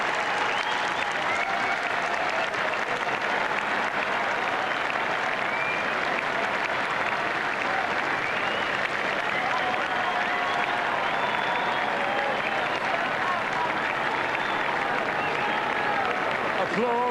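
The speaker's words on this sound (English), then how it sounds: "Applause echoing all around the grandstand, all around Epsom Downs" Sustained applause from a racecourse crowd fills the Epsom Downs grandstand after a Derby winner, a loud, dense, continuous wash of clapping and cheering echoing all around with no break.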